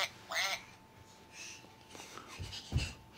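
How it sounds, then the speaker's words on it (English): A duck quacks from an animal sounds book, giving a short burst of raspy quacks followed by a few fainter nasal calls close by. "Oh, there it is. Duck."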